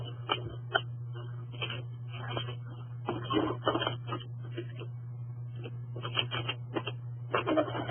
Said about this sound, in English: I think it's you that I'm hearing your keyboard.